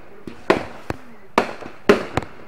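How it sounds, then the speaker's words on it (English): Several distant Fourth of July fireworks pop and crackle in irregular bursts, sharp bangs followed by short rumbling tails against a quiet background. "Fireworks. Great fireworks."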